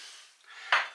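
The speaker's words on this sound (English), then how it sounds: "Give it a stir." A spoon scrapes and knocks against a pot of pork and pineapple stew, a short stir that ends in two quick, sharp metallic clinks.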